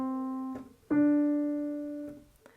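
Piano playing a melodic second, C then D, on a beginner lesson: two clean sustained notes, the first held about half a second, the second struck louder and ringing out slowly, alone with no talk.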